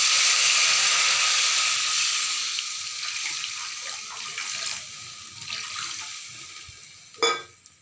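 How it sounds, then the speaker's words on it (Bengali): Water pours into a hot pan of egg curry masala, a loud hissing sizzle at first that gradually fades to a gentle simmer, ending with a sharp clink. "এবার দিয়ে দেবো একটু জল।"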